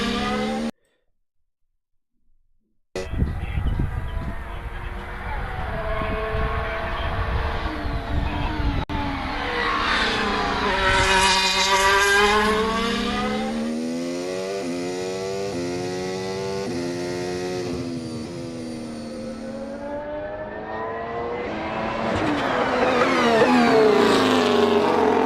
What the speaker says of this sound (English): that was the MCL 60 out on track earlier